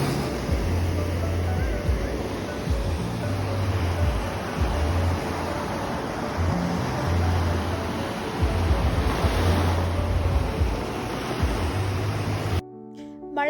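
Sea waves wash steadily at Bekal beach in Kasaragod, a loud continuous surf roar with wind buffeting the microphone, cutting off abruptly near the end.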